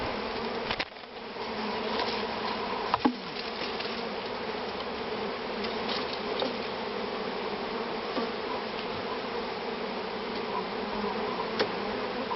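Dense, steady buzzing of a honey bee swarm being recovered from a hive in Loudéac, Brittany, close and continuous with a few brief knocks and handling noises, no speech.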